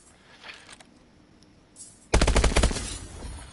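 Automatic gunfire in Call of Duty: Advanced Warfare, a loud rapid burst of shots in quick succession that starts suddenly after quieter game ambience and then tails off into a rumbling echo.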